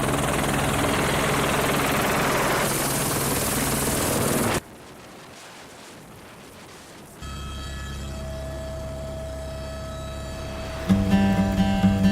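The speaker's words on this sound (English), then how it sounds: "Made the decision to take the helicopter up to Pioneer Hut." Helicopter flying up to Pioneer Hut in New Zealand's Southern Alps, a loud steady rotor and engine roar that cuts out abruptly, then after a quiet gap a strong droning hum with a sharp rise in level near the end.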